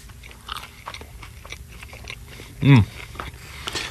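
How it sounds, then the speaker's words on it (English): A single loud crunching bite into a crispy bagel, close to the mic, standing out briefly from quieter background chatter and low room noise. "Oh, listen to that crunch."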